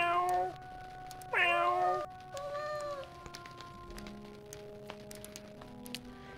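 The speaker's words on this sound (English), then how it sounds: "I would just be paying attention to the cat." A cat in the Star Trek: Judgment Rites video game meows a few times, with two clear, close, drawn-out calls early on followed by a softer one. Quiet game ambience fills the rest.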